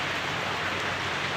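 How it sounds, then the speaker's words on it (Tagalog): Steady morning rain, a dense and even hiss of drops falling continuously with no pauses or voices. "Manayag yung ulan pero tuloy-tuloy siya"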